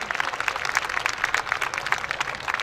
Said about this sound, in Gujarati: એકવાર ખૂબ જોરદાર તાળીઓ આ બધા મિત્રો માટે હોવી જોઈએ.